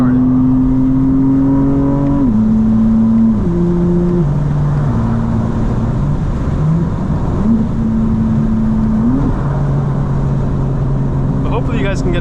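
A 2025 BMW M4 CS, full bolt-on and track ready, drives through South Florida, its engine droning loudly and steadily with pitch stepping up and down through gear changes; someone talks over it throughout.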